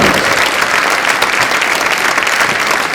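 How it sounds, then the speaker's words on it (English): A gymnasium crowd claps loudly and steadily for senior players and their parents at a high school boys basketball game, a dense, continuous wash of applause with no pauses. "Ladies and gentlemen, a big round of applause for the 7 senior basketball players"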